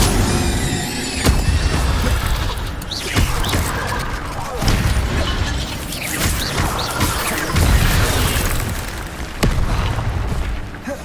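A fire spell cast in the video game Hogwarts Legacy, with dense booming blasts and crackling bursts that sustain loudly throughout, mixed with game sound and voices.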